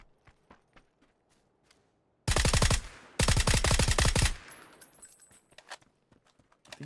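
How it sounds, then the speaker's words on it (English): Two loud, close bursts of rapid MG3 machine gun fire in the battle royale game PUBG, each lasting about a second, separated by a short pause and surrounded by quieter scattered clicks and footsteps. "I think he's got an MG3."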